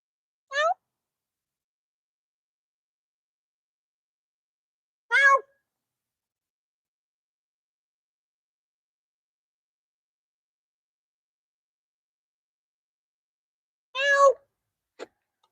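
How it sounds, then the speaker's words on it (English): A cat gives plaintive meows, three short separate cries spaced several seconds apart with silence between, the last followed by a brief faint chirp. "I heard a really plaintive meow just now."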